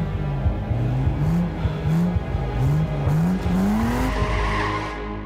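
A car on ice in Sweden revs hard at full throttle, the engine rising and falling in repeated surging bursts as the wheels spin, loud and close, with a final climbing rev.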